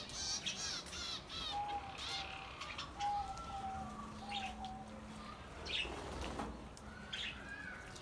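Lovebirds make bright, scattered chirps and squawks over a busy aviary background, with brief wing flutters and calls rising and falling throughout.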